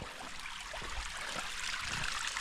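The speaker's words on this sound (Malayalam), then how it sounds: "ഇവിടെ നല്ല വെള്ളം ഒഴുകുന്ന സൗണ്ട്" A stream flows over rocks in the Qurai area of Oman, giving a steady broadband rush and trickle that stays fairly loud and close throughout with no voices.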